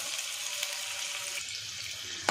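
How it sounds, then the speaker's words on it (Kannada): Three lengthwise-sliced onions frying in oil in a pan make a steady, close sizzling hiss with no talk. "ಇದನ್ನು ಸ್ವಲ್ಪ ಹುರಿಬೇಕು."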